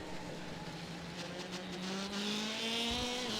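Race cars in the iRacing sim on the New Hampshire road course run close together, a steady engine drone rising in pitch as they accelerate, with a brief tire squeal near the end.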